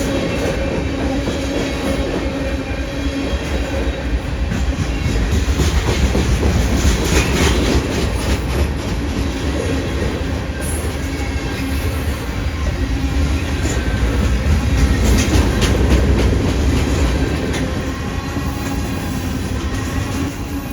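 A long CSX freight train on the Henderson Subdivision rolls by close and loud, wheels clattering steadily over the rails with occasional metallic squeals, no voices.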